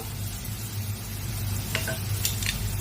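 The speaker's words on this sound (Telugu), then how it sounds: "ఇప్పుడైతే మనం టొమాటోలను అయితే యాడ్ చేసుకుందాము." Chopped tomatoes added to fried onions in a pan, a steady low sizzle with a few scraping stirs of a spoon toward the end.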